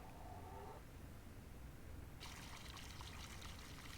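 Water pours and trickles steadily into crushers in the Giants Editor farming game, a soft running stream that turns brighter and hissier partway through, continuous and without any talk.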